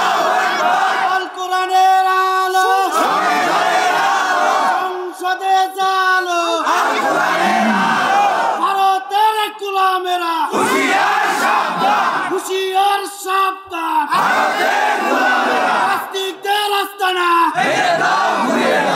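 A large crowd at a Bengali religious gathering chants a slogan in unison after a speaker's lead, each loud, rhythmic call repeated in waves, with the speaker's voice leading between the responses.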